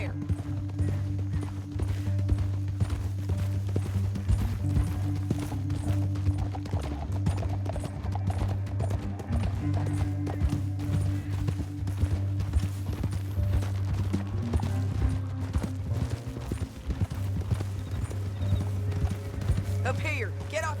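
Horse hooves galloping in the Red Dead Redemption 2 video game, a rapid continuous clip-clop over a low droning music bed, with occasional whinnies and speaking voices.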